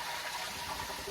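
Tap water gushing steadily into a cooking pot being filled for rinsing green beans, a brief continuous rushing splash with no talk.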